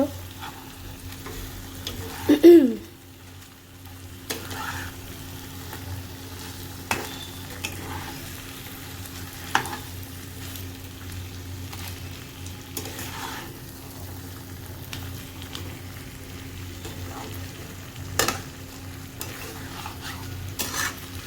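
Koi fish sizzle and fry in hot oil with spiced masala, stirred steadily with faint utensil scrapes over a constant low hiss.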